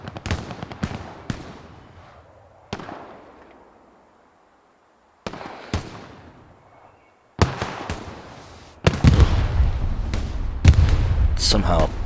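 Rocket explosions in the WWII shooter Hell Let Loose during a competitive match, with sharp booming blasts and pops scattered across the stretch, some echoing away, followed by heavier sustained rumbling near the end.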